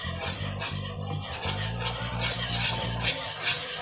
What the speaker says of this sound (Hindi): ऐसे विस्कर की मदद से हिलाते रहें।